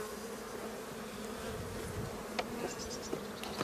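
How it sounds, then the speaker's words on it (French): Honeybee foragers leave a hive in early March, making a steady buzzing drone throughout, close and moderately loud, with a few faint clicks near the end. "Il faut juste laisser les butineuses sortir"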